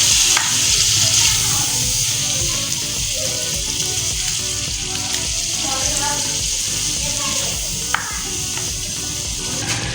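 A paste of onion, garlic, ginger and green chili fries with spices in a pan, giving a steady loud sizzle with scraping stir sounds throughout.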